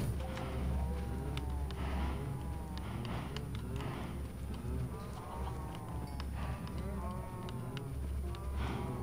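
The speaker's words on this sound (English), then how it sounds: "A lot of cows in here now" Several cows in the Minecraft video game moo repeatedly, long low calls overlapping one another at a steady level with little else around them.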